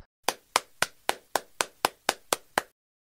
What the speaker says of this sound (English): The girl claps her hands.